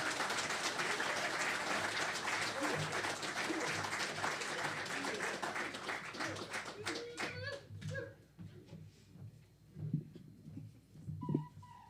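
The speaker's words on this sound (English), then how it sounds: "So round of applause for the two," Audience applause for harp player Eileen Gannon and fiddler Emer Arkins at the St Louis Tionól 2022 fills the room in a dense, steady wash, then thins into scattered claps as a voice begins talking.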